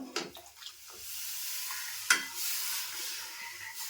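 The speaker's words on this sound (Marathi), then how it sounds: "अशी कंटिन्यू ढवळत राहायची नाहीतर मग ते त्याच्यामध्ये गोळे तयार होतात" A spoon stirs Malvani horse gram pithi in a pan with steady, faint scraping strokes over a low simmering hiss, and one sharp clink of the utensil against the pan.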